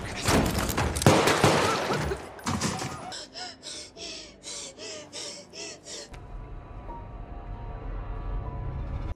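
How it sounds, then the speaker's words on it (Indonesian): A film gunfight: a burst of loud, rapid gunfire and impacts, then a quick series of sharp pulsed shots, fading into a low rumbling background. "Keduanya beradu tembakan hingga akhirnya Frigma pun tewas"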